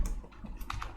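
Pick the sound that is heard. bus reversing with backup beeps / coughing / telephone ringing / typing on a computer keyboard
typing on a computer keyboard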